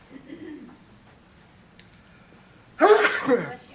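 A single sharp, loud sneeze bursts out after a quiet stretch during a county commissioners court budget meeting, with faint murmuring in the background.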